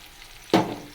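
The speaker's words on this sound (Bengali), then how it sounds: "রসুন আর পেঁয়াজ ভেজে নেব।" Garlic and onion hit a hot oiled pan with a sudden loud sizzle that quickly settles into a steady frying crackle, heard close up with no talking.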